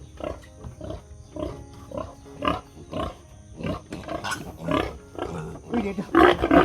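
Pig grunting and squealing in repeated short bursts close by, growing louder and harsher toward the end, with people talking faintly in between.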